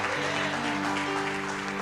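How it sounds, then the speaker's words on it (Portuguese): A church congregation claps together at an evangelical service, a sustained, fairly loud wash of applause over steady sustained musical tones, with some voice mixed in. "Aplauda ao Senhor."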